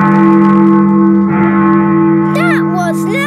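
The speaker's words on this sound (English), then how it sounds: "That is the sound of Big Ben telling us the time." Big Ben's bell in a cartoon rings out over a steady, droning orchestral music bed, with strong tones that echo and ring on, followed by a brief chattering voice near the end.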